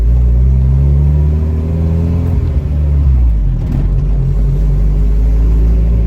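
A Honda Integra engine that is overheating idles loudly and steadily nearby, a deep continuous rumble with a slight rise in pitch partway through.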